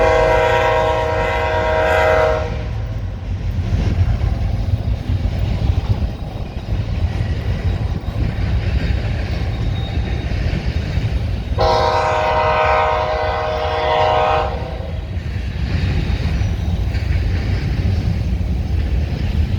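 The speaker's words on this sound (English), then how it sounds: "No, it's a grain train." A BNSF grain freight train rumbles steadily past at close range, its horn blaring in a long blast at the start and again midway, over continuous heavy rail and wheel noise.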